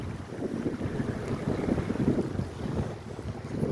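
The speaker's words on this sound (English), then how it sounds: "as soon as we come out here, it starts raining" Steady rain falling outdoors beside a creek during gold prospecting in wet hail and sleet weather, a continuous dense low wash with gusty wind buffeting the microphone, no talking.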